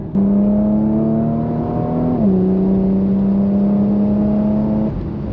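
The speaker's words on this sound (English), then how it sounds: "Oh, a little burble from the back." A sports car driven in Sport Plus mode gives off a loud, close engine drone with a steady exhaust note, dipping briefly in pitch partway through as it shifts and then holding level.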